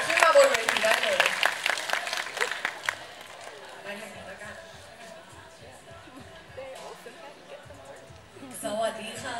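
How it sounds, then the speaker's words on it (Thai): At a fansign event, a crowd breaks into a loud burst of applause and cheering at the start, which fades into background chatter and talking, with a brief return of noise near the end. "ขอเสียงปรบมือให้กับหมายเลข39ค่ะ"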